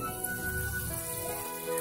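Curry leaves tossed into hot oil for a tempering of turmeric and reddened garlic, giving a short, steady crackling sizzle that fills the moment without any voice.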